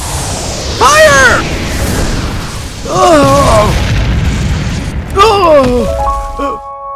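Animated cannon fire in a Monster School zombie cartoon delivers a few heavy booms, spaced a couple of seconds apart, beneath loud, high-pitched shouting voices.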